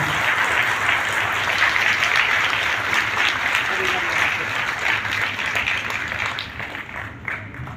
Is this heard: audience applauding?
yes